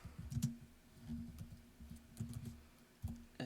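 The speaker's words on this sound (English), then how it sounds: "This is how I'm typing, folks." Fingers tap on a computer keyboard in uneven bursts of soft, close keystrokes over a low steady hum, with no speech.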